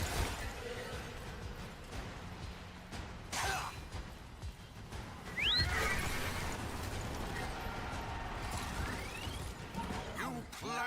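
A horse neighs in the video game Warframe amid busy game sound effects, with a couple of rising whinny calls over clattering mechanical noise.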